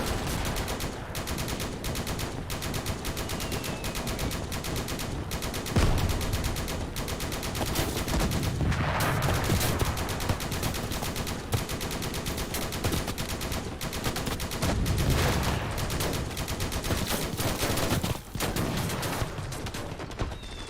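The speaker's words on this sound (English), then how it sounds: "Mortars going out on the Germans" Dense, continuous gunfire and mortar blasts roll through a World War II battle in the real-time strategy game Gates of Hell, with bursts of automatic fire and heavy thumps layered over a constant loud din.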